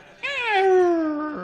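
A performer at a Pratapgarh mushaira mimics a cat's meow with his voice, one drawn-out, rising-then-falling yowl lasting about a second, loud and close with no other talk.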